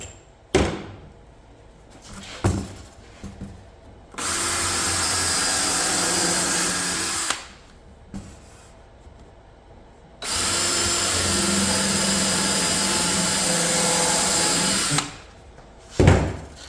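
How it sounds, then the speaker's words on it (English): A power drill drives side screws into a passive solar heater under construction, in two sustained whirring runs of about three seconds and five seconds each, separated by quieter handling knocks and clatter. "I'm going to put side screws in."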